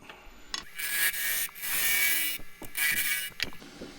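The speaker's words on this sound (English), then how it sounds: "So I'll do that with the spindle gouge." Spindle gouge hollowing a cross-grained pagoda box on a wood lathe, heard as a series of close, rasping cutting bursts separated by short pauses.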